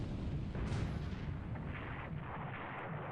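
Heavy naval gunfire from the 8-inch guns of the cruiser USS Houston in the War in the Pacific AE game, a dense, sustained low rumble of overlapping booms with no clear separation between shots.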